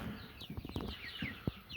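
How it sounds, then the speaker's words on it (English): A lavender hen clucks up close in a tent where bedding is being spread, giving a few short, soft clucks and scratchy rustles over about two seconds. "Here's my lavender hen."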